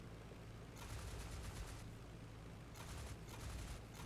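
Bursts of aircraft machine gun fire in the IL-2 Great Battles flight combat game, two long rattling strings of rapid shots over a steady engine drone, fairly quiet overall.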